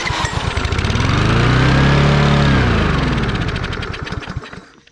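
A walk-behind lawn mower with a suspect carburetor fires up and runs, its small engine rising to a loud, steady chugging roar, then sputtering and dying away near the end, heard close up and alone.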